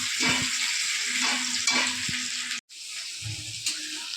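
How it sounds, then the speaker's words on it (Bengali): Pointed gourd (potol) slices frying in oil until browned, a steady close sizzle with periodic scraping stirs of a spatula and a brief break in the middle, no talking. "এই যে পটলটা লাল লাল করে ভেজে নেব"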